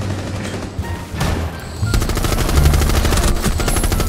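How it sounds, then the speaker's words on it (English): Rapid automatic gunfire in the video game Rainbow Six Siege, a loud sustained burst of rattling shots that rises in intensity partway through and continues steadily to the end, with no talking. "something's shooting me from far away"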